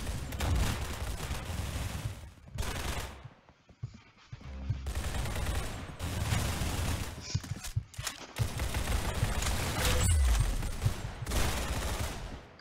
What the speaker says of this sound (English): This one also shoots really fast.